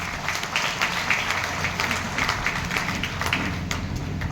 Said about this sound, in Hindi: मैं चाहूँगा मैडम के लिए जोरदार ताली।